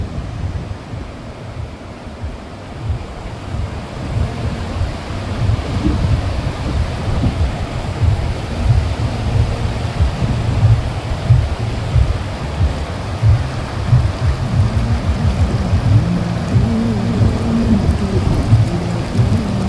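Big sea waves surging onto a Gujarat beach, a dense, continuous roaring wash that builds slightly in strength, loud and close, with no voices over it.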